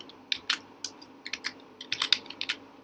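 Fingers typing on a computer keyboard, a quick irregular run of close, crisp key clicks in bursts, with no voice present.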